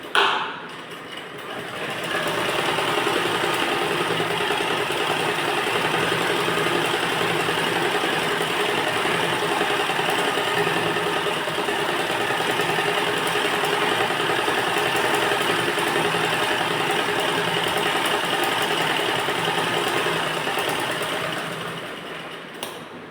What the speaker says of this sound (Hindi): तो चलिए हम पहले यहाँ से सिलाई नीचे के भाग में लगाते हैं